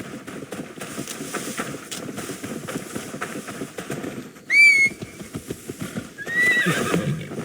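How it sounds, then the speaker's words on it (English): A horse in the video game Assassin's Creed Valhalla clip-clops along, then gives a loud, shrill neigh midway and a second whinny near the end, with no voices. "Now to deliver Magni his horse."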